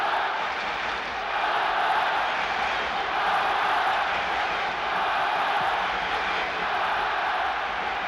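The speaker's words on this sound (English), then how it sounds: "This huge crowd now getting behind Barcelona" A huge football stadium crowd at a Barcelona v Leeds United match roars steadily for Barcelona, a dense, continuous, distant wash of voices that swells slightly and holds without pause.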